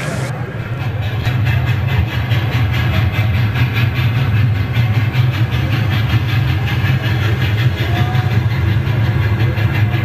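Model railway train pulling into a station on a layout, a steady loud rumble with faint rail clatter throughout, a low hum underneath and a voice speaking over it.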